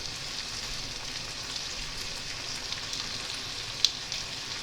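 Brown sugar (cassonade) cooks in a pan as the base of a Liège meatball sauce, giving a steady, soft sizzle throughout with one brief sharp click near the end, without voices.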